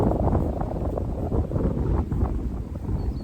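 Strong cold wind gusts through a flower garden, buffeting the microphone in a constant rumbling roar with slight rises and falls and no talking.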